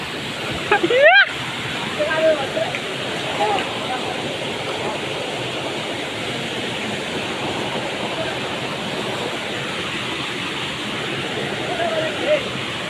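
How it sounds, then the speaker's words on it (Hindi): Devwadi waterfall in Mangeli in the Konkan region, a steady broadband rushing roar of falling water that fills the whole clip with an even, unbroken wash. "तो देववाड़ी वाटरफॉल"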